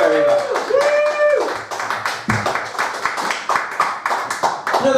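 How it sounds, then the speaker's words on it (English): A comedy audience at the Brighton Fringe claps for a comedian, rapid rhythmic hand claps filling the room, while a voice talks over the applause. "Another round of applause there for Alex Platt"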